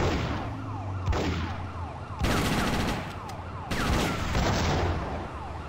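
Rapid bursts of gunfire in the video game GTA Chinatown Wars, loud repeated volleys in two long stretches, mixed with a wailing siren and busy game sounds, without voices.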